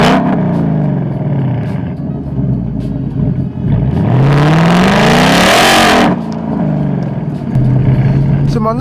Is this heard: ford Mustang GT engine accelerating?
yes